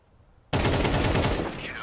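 An MP9 submachine gun opens up in Counter-Strike, a sudden loud, rapid sustained burst of automatic fire cutting in after a brief quiet moment.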